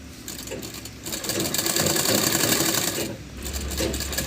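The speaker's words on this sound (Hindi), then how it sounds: "इसी तरह सेम दूसरी साइड की भी सिलाई हम लगा लेंगे।" A sewing machine stitches the side seam of a blouse in a continuous close whirring run, easing slightly at the start and near the end, with no voices.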